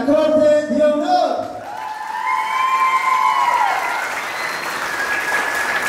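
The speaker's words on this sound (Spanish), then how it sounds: "Quiero escuchar un aplauso muy bonito para Paola y la Corte de Honor." Audience applause at a Mexican quinceañera fiesta, loud clapping rising behind an amplified voice, then a sustained wash of clapping and cheering under a whistling or wailing tone that fades gradually.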